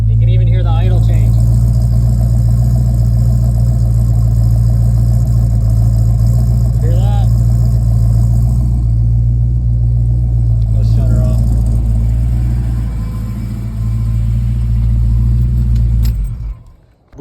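Car engine idling steadily with a failing alternator, a constant low rumble whose idle shifts slightly over time, with a few brief clinks and faint voices in the background.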